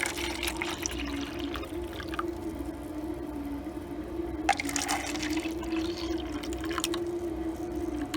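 Dissolved alum solution made with hot water is poured into cups, a continuous trickling, gurgling stream close by with brief splashy bursts as the flow shifts, and no talking.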